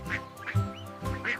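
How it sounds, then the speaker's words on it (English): A cartoon mama duck in a children's nursery rhyme sing-along quacks three times in a steady rhythm, close and clear over a bright musical backing. "Mama duck said, quack, quack, quack."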